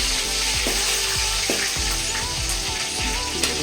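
Mustard seeds, curry leaves and chillies fry in hot oil for vangibath, a loud continuous close sizzle with a string of crackling pops and spatters, no voices.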